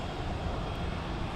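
A fixed-wing aircraft engine drones steadily near Logan Airport, a continuous broadband roar with no talk over it.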